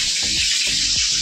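Kitchen tap running steadily into a sink, a close, continuous broadband rush with faint thuds underneath and no voices.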